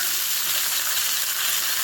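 Chickpeas hitting hot frying spices in a pan, giving a loud, close, continuous sizzle with a hissing, steamy texture and no voices over it.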